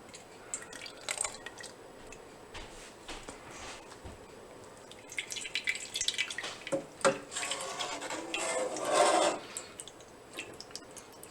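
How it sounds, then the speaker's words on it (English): Liquid whey running and dripping off draining cheese curds in a homemade cheesemaking setup, irregular trickles and drips with occasional rubbing and scraping sounds, growing busier midway, with no talking. "Drain off some of that whey and scoop it all into here. We're going to let gravity do its thing."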